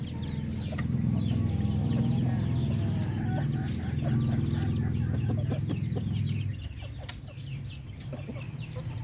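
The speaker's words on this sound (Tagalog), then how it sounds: "napakaganda ng rooster na to mga Pinoy" A rooster clucks repeatedly in short, close bursts over a low rumbling background that drops away near the end, with other fowl sounds faintly around it.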